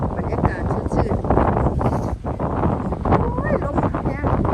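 Strong dry wind gusts across a boat on the water, a steady broadband roar that buffets the microphone throughout, with voices talking underneath.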